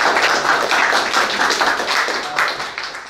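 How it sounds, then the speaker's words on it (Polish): Applause for an artist at an art exhibition opening, a dense, continuous crowd clapping close and loud throughout, fading slightly near the end. "Także brawa."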